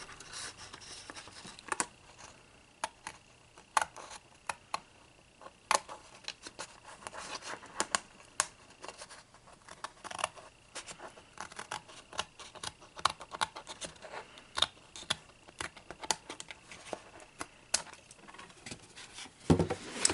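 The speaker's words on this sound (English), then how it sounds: "Yep, it's better with scissors, y'all. Just cut it right on the edge there." Scissors cut along the edge of a paper piece for a homemade sweetheart love letter mailbox, a quiet, close run of rapid irregular snips and rustles lasting about twenty seconds, with no talking.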